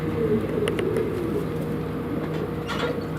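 Domestic Adana pigeons cooing inside a loft, low soft coos running steadily through the whole stretch with a faint background hum and no speech.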